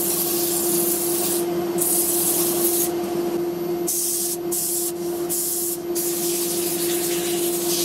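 Sanding the edges of a turned walnut wood bowl, a steady loud abrasive rubbing hiss over a constant motor hum, with brief pauses and shifts in the scraping texture.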